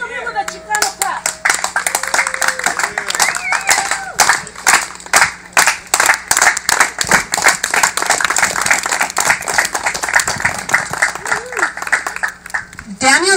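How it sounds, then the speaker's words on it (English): A crowd at a Chicano bike and car show does a Chicano clap, a slow run of loud, close claps that speeds into rapid applause, with a few voices calling out over it. "Let's welcome him with a Chicano clap."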